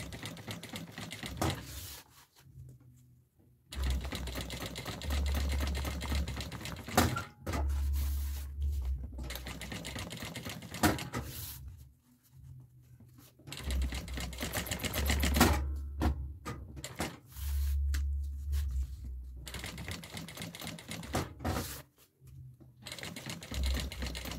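A sewing machine stitches along the edge of a sublimated fabric necessaire box bag in several bursts of rapid mechanical chatter, close and steady, broken by short pauses between runs.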